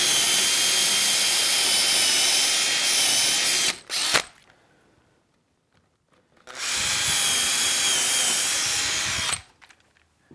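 A power drill bores a hole through a hinge panel post of an enclosure, two long loud whirring runs close by, separated by a short pause with a brief clatter.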